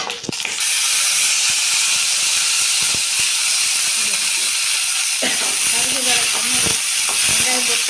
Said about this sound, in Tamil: வரமிளகா போட்டு வறுத்துக்கலாங்க.